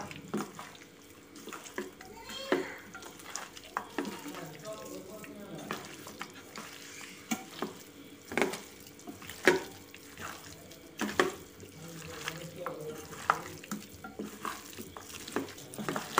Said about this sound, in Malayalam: ഇപ്പോൾ ഇനി ഇത് നല്ല പോലെ കൈകൊണ്ട് മിക്സ് ചെയ്ത് കൊടുക്കാം കേട്ടോ